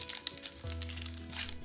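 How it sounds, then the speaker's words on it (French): Parchment paper is peeled away from the edges of a block of sesame nougat, giving soft close crinkling and crackling over a steady low hum. "On décolle le papier sulfurisé au niveau des bords."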